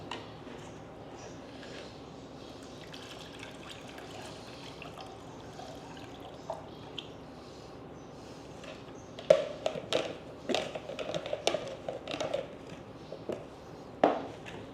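Kuih lapis Nyonya batter strained through a sieve and poured, heard as a faint liquid trickle and scattered clinks that grow busier toward the end, over a steady low room hum.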